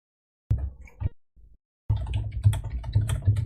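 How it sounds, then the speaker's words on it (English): Typing hammered out hard and fast on a computer keyboard: a quick burst, a pause, then a dense, loud run of clattering keystrokes close to the mic. "Angry typing."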